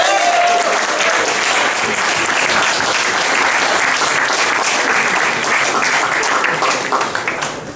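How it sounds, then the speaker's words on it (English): Loud audience applause at a student comedy gig as a man walks in, a thick, continuous roar of clapping sustained for several seconds before starting to thin out near the end. "Big round of applause, he walks through the door"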